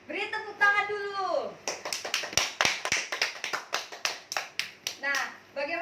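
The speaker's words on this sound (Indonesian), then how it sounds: "Beri tepuk tangan dulu." Schoolchildren in a classroom clap their hands in a quick burst of overlapping claps lasting several seconds, close and fairly loud, with children's voices calling out just before and after.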